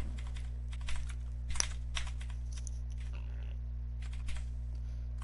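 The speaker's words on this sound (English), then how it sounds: "I'm spamming the keyboard" A computer keyboard being rapidly spammed during a game, with bursts of clicky key presses close by over a steady low hum, each burst loud and fast, with no talking.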